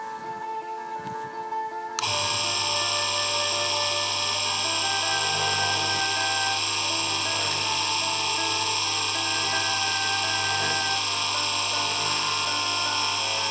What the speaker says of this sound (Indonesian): Jadi kita poles pakai kain poles yang bentuknya seperti ini.